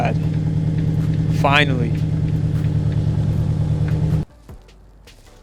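A wrecked FRS/BRZ/86 car's engine rumbles steadily while a person speaks a word over it, then the sound cuts off abruptly to near silence.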